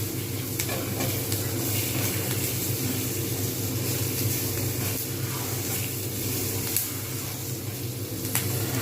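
Fish pieces frying in a pan for chilli fish, a dense, continuous close sizzle and crackle of hot oil holding steady without talk.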